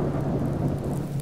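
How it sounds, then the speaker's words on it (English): Thunderstorm in the survival game Subsistence, a steady dense wash of rain with a low rumbling undertone of thunder, continuous and fairly loud throughout the short stretch, with no voices. "it is a stormy day"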